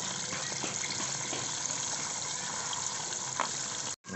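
Water drains out of a catfish pond filter tank, a steady gushing, splashing rush heard close and moderately loud, cutting off briefly near the end.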